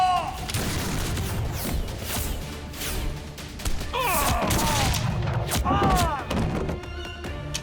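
Heavy booming blasts of cannon fire thud repeatedly amid chaotic noise, with shouting voices breaking through between the explosions.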